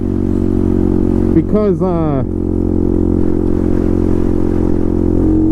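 Honda Grom motorcycle with a CBR engine swap and its air filter removed, idling steadily with a brief rising rev in the middle before settling back; someone speaks briefly over the engine.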